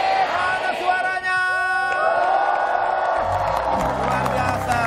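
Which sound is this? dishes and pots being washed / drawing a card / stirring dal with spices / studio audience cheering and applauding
studio audience cheering and applauding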